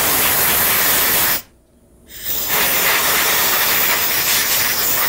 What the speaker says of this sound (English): I'll bring the air gun over and spray a little air on it.